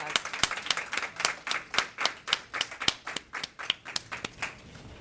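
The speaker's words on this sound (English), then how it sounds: "Please join me in giving Jacqueline another round of applause." A small audience at a student talk event claps in a sparse, uneven rhythm, individual hand claps distinct and moderately close, fading slightly toward the end.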